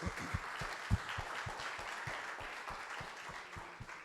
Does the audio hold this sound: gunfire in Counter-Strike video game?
no